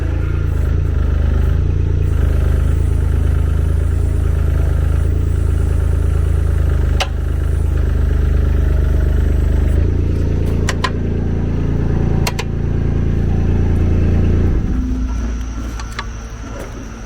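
A vehicle engine runs steadily as the machine drives forward to hook up a firewood grapple, with low rumbling drone, occasional clanks and rattles, easing off toward the end.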